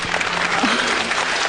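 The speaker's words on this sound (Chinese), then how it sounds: "觉得他好的请鼓掌" A studio audience on a televised dating and relationship show breaks into brief, even applause, a short burst of massed clapping with a faint voice underneath.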